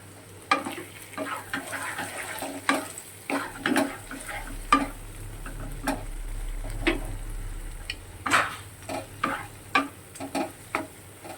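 Masala with a splash of Amul fresh cream sautéing in a pan for dudh potol (pointed gourd in milk curry), with a low steady sizzle under repeated sharp spatula scrapes and clicks against the pan, close and fairly clear, no talking.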